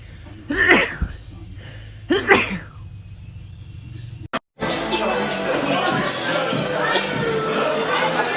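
Two loud, sharp sneezes come close together near the start over a steady murmuring room, followed after a brief gap by dense, noisy crowd-like clatter that fills the rest of the clip.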